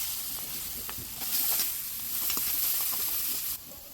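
Chillies and onion sizzle steadily in hot oil in a kadai, a close, continuous frying hiss that swells briefly, then drops away near the end.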